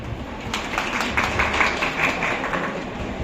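An audience at a health awareness event in Nagpur gives a speaker a round of loud applause, a steady, dense wash of many hands clapping that swells slightly in the middle.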